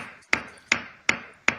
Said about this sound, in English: someone hammering a nail.